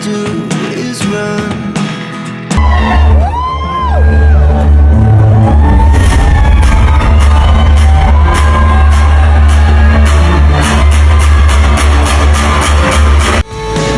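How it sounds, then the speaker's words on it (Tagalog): A loud concert crowd screams and cheers as Kathryn Bernardo comes on stage at the Buds Best You Ever 2024 event, a sustained roar over a heavy music bass beat lasting most of the moment. "super hiyawan ang mga tao na naroon"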